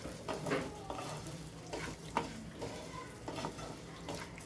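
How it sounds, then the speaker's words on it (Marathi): Coarse semolina roasting in ghee in a pan makes a soft, low sizzle, broken by repeated scraping strokes of a spoon stirring it. The sound is fairly quiet, with no voices. "आणि हा असा भाजून घ्यायचा"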